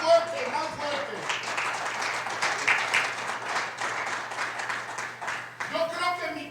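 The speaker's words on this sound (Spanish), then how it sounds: "Denle un aplauso al Señor." A church congregation claps together in a sustained burst of applause, steady and fairly loud, with voices and cheering mixed in throughout.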